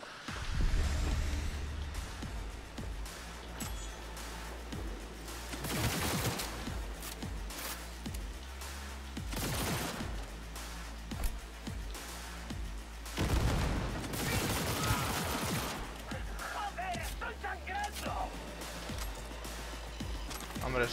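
Dense bursts of machine gun fire and rapid gunshots from the video game Cyberpunk 2077 run through the whole stretch, loud and sustained, with booms and crashes mixed in and a player speaking over the combat.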